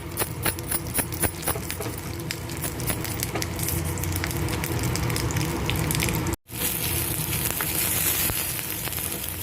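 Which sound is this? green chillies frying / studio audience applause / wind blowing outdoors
green chillies frying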